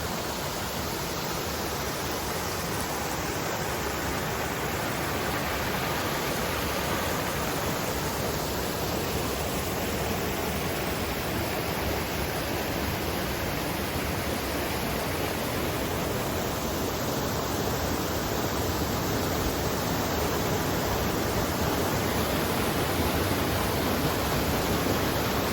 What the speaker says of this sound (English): here's the little, I guess it's the little waterfall